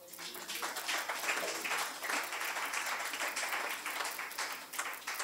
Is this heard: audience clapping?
yes